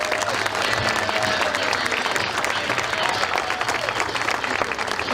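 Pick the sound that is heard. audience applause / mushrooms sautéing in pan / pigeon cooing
audience applause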